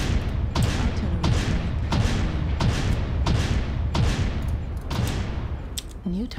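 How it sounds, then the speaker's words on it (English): Repeated heavy artillery impacts pound a MechWarrior Online battlefield, six or seven loud booming blasts arriving in a steady rhythm about once a second, each with a rumbling tail, with no talking over them. "Artillery strike activated."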